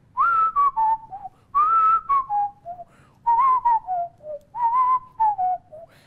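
A person whistles a melody, four clear phrases of descending, sliding notes with short pauses between them, close and alone with no talking.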